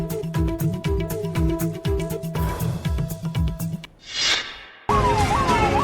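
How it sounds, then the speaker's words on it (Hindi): A white ambulance's siren wails loudly and continuously beside traffic noise, a repeating rising-and-falling tone that shifts pattern partway through, with a brief burst of hiss before it. "सफेद रंग की एम्बुलेंस, सायरन की आवाज और लोगों को रास्ता देने की मजबूरी।"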